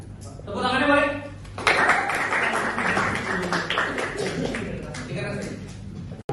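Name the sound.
applause, clapping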